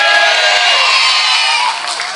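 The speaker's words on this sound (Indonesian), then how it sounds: "Tepuk tangan riyen kagem Pak Kades" Cheering crowd greeting a village head at a Javanese religious gathering, a dense, loud wash of shouts and whoops that holds steady throughout and eases slightly near the end, with no clear clapping.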